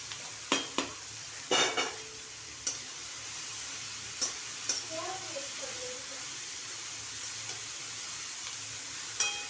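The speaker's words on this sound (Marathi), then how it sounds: "हे पहा आता याच्यामध्ये गोबी टाकून" Shredded cabbage fries in oil for a Maharashtrian kobichi bhaji, a soft steady sizzle punctuated by sparse clicks and taps of a spoon stirring against the pan, with a faint voice briefly in the background.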